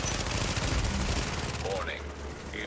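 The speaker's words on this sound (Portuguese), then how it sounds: "Cara, essa metralhadora aqui não para, velho." Machine-gun fire from The Division PvP gameplay rattles in a dense, continuous stream of rapid shots. Quieter effects follow as the firing fades near the end, with voices talking over the action.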